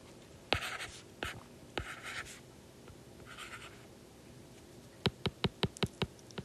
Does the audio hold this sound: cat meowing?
no